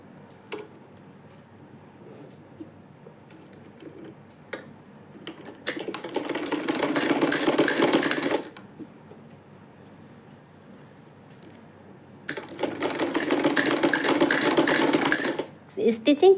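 Sewing machine stitching along folded fabric for a neck design, running in two steady whirring bursts of a few seconds each, separated by quieter stretches where a voice can be heard.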